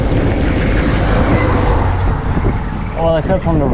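A lorry passes along a highway through a fishing village on Shikoku at night, its broad engine and tyre roar filling the clip before a rising whine and rumble near the end.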